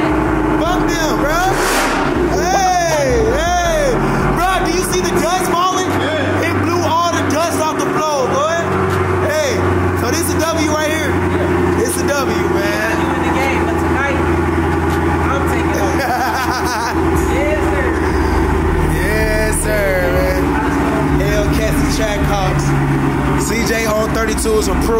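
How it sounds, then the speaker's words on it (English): A car engine at a dealership revs repeatedly, the roar rising and falling loudly up close while several people talk and shout excitedly over it. "Let me hear you rev that."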